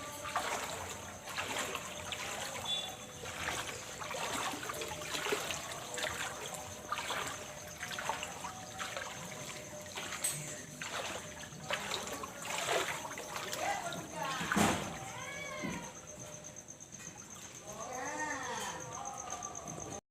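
Floodwater after rain splashes and trickles around a house, with steady lapping and sloshing close by, occasional louder splashes, and a person talking faintly in the background.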